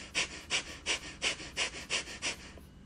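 Rapid, forceful pranayama exhales pulse in a steady run of about eight sharp bursts, each a close, breathy puff through the nose, slightly accelerating before trailing off.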